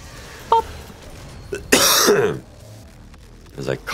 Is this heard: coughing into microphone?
yes